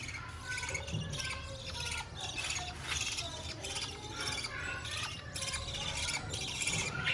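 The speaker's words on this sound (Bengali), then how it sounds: "দেখেন আপনারা কি আওয়াজ পাচ্ছেন বাজিকা পাখির বেবির" Young budgerigar chicks make faint, raspy squawks and chirps in quick repeated bursts against quiet background noise.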